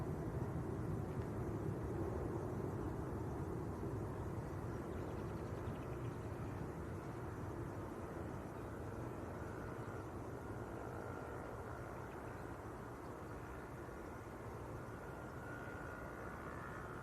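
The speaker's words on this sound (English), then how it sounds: "Ryanair's going up like a rocket" Ryanair jet taking off at Leeds Bradford Airport, a distant, broad engine roar holding steady and fading slowly, faint and continuous.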